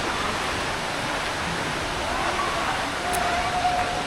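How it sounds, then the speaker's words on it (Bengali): Kapildhara waterfall at Amarkantak, Madhya Pradesh roars as a dense, steady rush of falling water heard from nearby, with a faint voice speaking under it. "একদম জলটা সামনে থেকে দেখা যাচ্ছে কপিলধারা"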